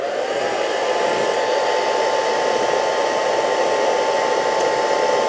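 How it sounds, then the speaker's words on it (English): A hairdryer set on low blows a steady, loud whooshing hum with a faint tonal whine, running without pause through the clip and close to the listener, used to feed air to burning steel wool in a beaker. "set my hairdryer on low."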